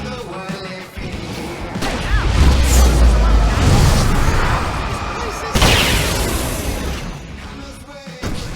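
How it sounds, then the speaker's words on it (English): Fireworks bursting in the video game Alan Wake, a rapid barrage of loud booms and crackling pops that builds, eases off, then erupts again in a second heavy volley, with shouting game voices mixed in. "I can set off more of the fireworks from here and help you out!"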